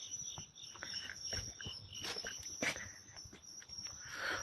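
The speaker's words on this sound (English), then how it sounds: "Did you guys hear the humming of the cricket?" Crickets chirp in a quiet outdoor spot at midnight, a steady high shrill running throughout with faint footsteps and rustles beneath as someone walks.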